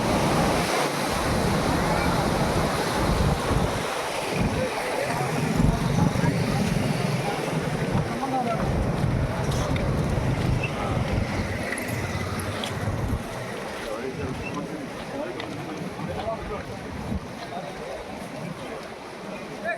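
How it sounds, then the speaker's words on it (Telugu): Floodwater rushes through an overflowing stream in a steady, loud roar with wind buffeting the microphone, continuous for the whole stretch without pause or talk. "నీటి ఉధృతి కొనసాగుతుందండి"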